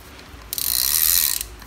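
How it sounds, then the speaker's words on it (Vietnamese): A used Japanese fishing reel with a white body, chipped paint, wooden handle and four bearings is cranked in one smooth, light whirring spin lasting about a second, close up and alone. "Con này là 4 mặt đạn, nó quay rất là nhẹ các bạn."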